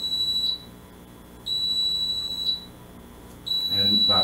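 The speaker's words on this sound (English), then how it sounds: "And by pressing a button, it disables an alarm." A TornadoAlert weather alert device sounds a loud, piercing high-pitched alarm in evenly spaced one-second beeps separated by one-second gaps, with a voice starting right at the end.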